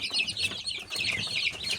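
Young brama chicks chirp and peep continuously in a farmyard coop, a dense cluster of high, thin calls close by with no talking.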